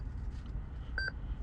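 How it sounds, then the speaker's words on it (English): A Lexus 2016 immobiliser, the Ghost 2 unit, gives two short electronic beeps in quick succession after a PIN is entered, clear over a low steady rumble. "you'll get 2 beeps"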